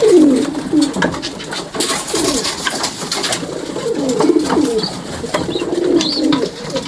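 Domestic pigeons cooing at close range, repeated soft throaty coos in a steady rhythm through most of the stretch, loud and clear over light background noise.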